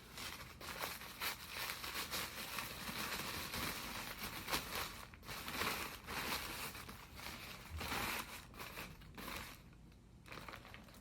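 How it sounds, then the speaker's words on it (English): Paper being crumpled close to the ear, a soft, continuous crinkling and crackling rustle that rises and falls in small bursts, faint and alone without talk. "What does it sound like if we hold it up to our ear and crumple the paper?"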